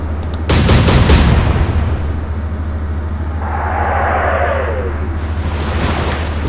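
Warship guns fire in the naval video game Atlantic Fleet: a sharp, loud salvo booms and rumbles out over a steady low engine hum, followed by a fading whistle of shells in flight.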